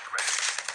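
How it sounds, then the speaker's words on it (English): Rapid bullet fire in a video game, a dense burst of shots with a sharp onset lasting under a second, loud and continuous with small spikes near the end. "I can even hear the concussions from my bullets"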